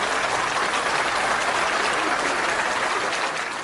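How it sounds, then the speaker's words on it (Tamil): A Tamil pattimandram debate audience breaks into enthusiastic applause after a speaker finishes, a dense, steady wash of many hands clapping at close range for the whole stretch with no voices over it. "நல்ல ஒரு உற்சாகமான கைத்தட்டு"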